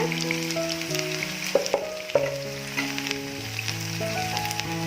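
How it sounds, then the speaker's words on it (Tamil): Onion slices frying in hot oil for a chicken dum biryani, a steady sizzle and crackle close by, with occasional stirring and pan clinks, no talk. "இதை இப்போ ஆயிலில் ஆட் பண்ணிடலாம். இது நல்லா ஃப்ரை ஆகி வரணுங்க."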